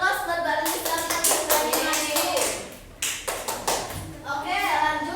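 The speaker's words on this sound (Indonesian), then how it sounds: "Beri aplaus buat Mbak Lilis lagi." A classroom of students applauds together in a lesson, a loud, dense burst of clapping that swells, briefly dips and picks up again, close and continuous throughout.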